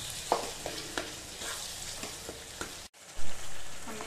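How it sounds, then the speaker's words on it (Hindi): Pumpkin sabzi with melted jaggery cooking in a pan, stirred and mashed with a spoon, giving a steady sizzle broken by soft scraping strokes at a slow, regular pace, with a brief pause near the end. "तो हम चलाते हुए इसे पकाएंगे, इससे काफ़ी हद तक ये मैश हो जाता है। ऐसे हम इसे मैशते हुए चला लेंगे।"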